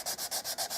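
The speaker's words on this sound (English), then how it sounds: "If you're wondering why I'm sanding here and there's nothing to sand out" Sandpaper rubs back and forth on a wooden shotgun stock of a Dakin 12-gauge side-by-side being reshaped, about six quick, even strokes, close and loud, with no voices.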